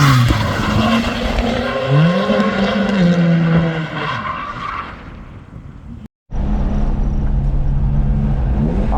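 A 130whp Volvo 740 wagon flung into a high-speed backwards drift: a loud, close engine drone under long wailing tire squeal, a brief cut to silence, then the engine and tire noise return.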